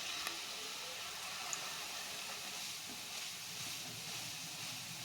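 Achchu murukku batter deep-frying in a pan of hot oil, giving a steady, even hiss and bubbling sizzle that holds at a constant level throughout, with no voices.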